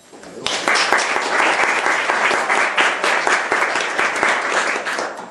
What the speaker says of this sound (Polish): proszę o brawa dla nich.